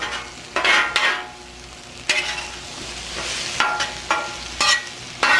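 Potatoes fry in a cast iron skillet over a cowboy cooking setup, a close sizzle punctuated by repeated sharp scrapes and clanks of a utensil against the pan, uneven in rhythm, with no one talking.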